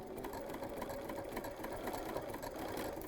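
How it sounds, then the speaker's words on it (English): A sewing machine running a steady basting stitch around the curved edge of a fabric penguin play mat, a continuous fast mechanical whir and rapid needle rhythm, close and even throughout, with no talking. "So we're just gonna stitch right around this, doing sort of a basting stitch."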